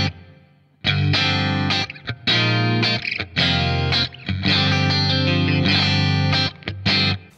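An electric guitar played through a BOSS 500 series pedal set to room reverb with a little level and 60 ms pre-delay, with loud sustained distorted chords and phrases in bursts with brief gaps, close and alone.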